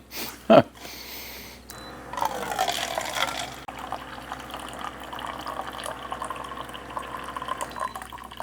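Water is poured into a container, a short splashing rush after a brief knock, followed by lighter trickling and dripping.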